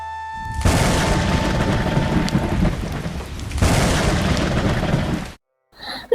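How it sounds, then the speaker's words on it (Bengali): Cartoon thunderstorm with heavy rain: a steady loud downpour hiss punctuated by rumbling thunder, swelling again midway, then cutting off abruptly near the end. "ও মা, কি জোরে জোরে বাজ পড়ছে"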